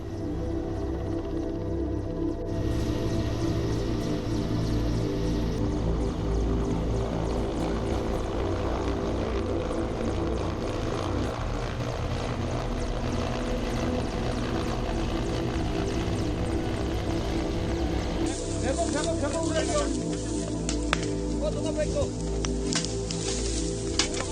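Indian Air Force helicopters fighting the Dzukou wildfire: rotors thump steadily and loudly for the whole stretch, a continuous droning beat with engine whine on top, some voices faintly underneath.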